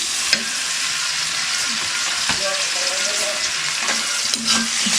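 Garlic, onion and tomato stir-fried in a pan give a loud, close, continuous sizzle, broken by scraping stirs and a few clinks of the utensil against the pan.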